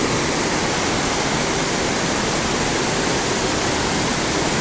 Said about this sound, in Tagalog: Napakalakas po ng agos.